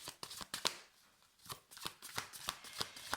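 Oracle cards shuffled and drawn by hand, a quiet series of crisp papery flicks and riffles in an irregular rhythm, close and soft with no talking.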